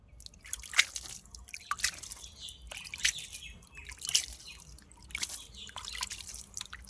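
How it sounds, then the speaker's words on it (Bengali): Water trickles and drips over a newly planted pumpkin plant in a garden, a light irregular splashing with soft outdoor background and faint bird chirps nearby. "এবার গাছটাতে হালকা করে জল দিয়ে দেবো।"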